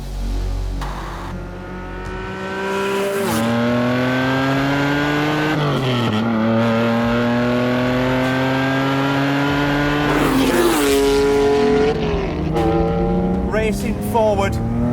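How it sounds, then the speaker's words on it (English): A Lamborghini Diablo SV supercar engine revs hard through repeated climbing gear pulls with shifts between them, loud and close, with a brief tire squeal and talk faintly underneath. "then we have this, the Lamborghini Diablo SV"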